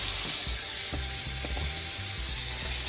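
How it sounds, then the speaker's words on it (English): Seasoned lamb chops sear in a pan, a steady broadband sizzle and crackle at even loudness with a few sharper pops and clicks scattered through it. "This is gonna be basically an initial sear. You sear them on up."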